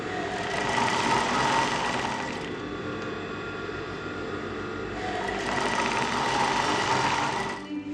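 A sewing machine stitches along the edge of fabric in two long runs of rapid, steady whirring, close and loud, with a brief slower stretch between them.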